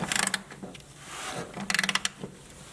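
A 15 mm nut comes off a Jeep TJ battery terminal with a ratchet, two quick runs of close metallic clicks and a soft rustle between them, with no talk.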